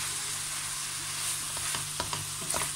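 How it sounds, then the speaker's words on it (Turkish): Tomatoes sizzle and fry steadily in a pan, with scattered scraping stirs and light clinks near the end, close and fairly quiet, no talking. "domatesini güzelce bir kavuruyoruz"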